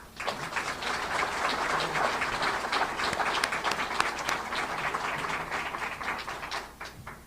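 An audience at a Savannah mayoral candidate forum gives sustained applause for the candidates, a dense, even wash of many hands clapping at moderate distance that fades out near the end.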